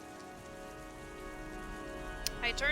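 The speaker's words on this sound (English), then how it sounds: "The rain and music, like the sound effects and music just get super loud." Rain sound effects from the video game Heavy Rain form a steady soft patter under tonal game music, with a couple of brief sharp clicks near the end.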